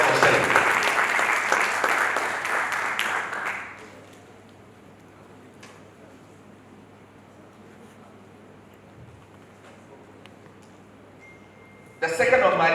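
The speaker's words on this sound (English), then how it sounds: "A round of applause for Shelley." Applause at an Africa nonprofit summit, loud sustained clapping from an audience for a few seconds that fades into a low hum of room noise, then a fresh burst of clapping at the end.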